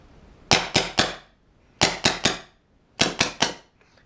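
Empire BT Dfender airsoft gun firing three sharp bursts of three quick, loud shots each, evenly spaced with short pauses between groups and no talking.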